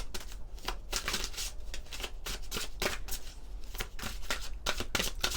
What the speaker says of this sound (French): On va prendre une carte de l'oracle The Venice Witch.